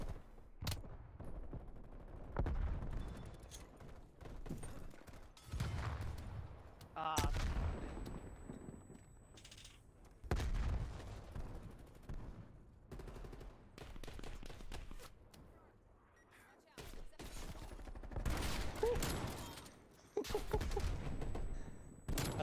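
Heavy explosive bursts and rapid gunfire from an artillery strike in Call of Duty, loud and repeated through the clip, with several players talking over the blasts.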